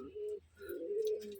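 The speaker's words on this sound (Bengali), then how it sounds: "বিগ সাইজের কবুতর" Large flying-breed pigeons coo in deep, rolling bursts, two close sustained phrases separated by a short pause, fairly loud and with no voices.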